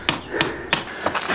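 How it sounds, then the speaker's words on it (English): Sharp hammer blows strike a chisel to break up concrete while a feather edge fence goes in, four distinct close metallic impacts at uneven intervals. "he volunteered to go in there with a hammer and chisel"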